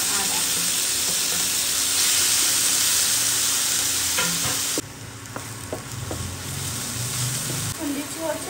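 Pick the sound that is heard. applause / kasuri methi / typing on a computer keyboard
kasuri methi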